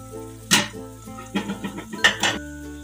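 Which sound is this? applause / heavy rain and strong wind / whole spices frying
whole spices frying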